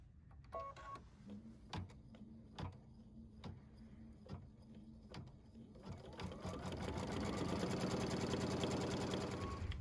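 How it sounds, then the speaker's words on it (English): A computerized embroidery machine stitches a tack-down stitch, its needle ticking in a steady rhythm that builds into a dense, continuous whir. The sound is close and alone. "Back on the machine, embroider the tack down stitch,"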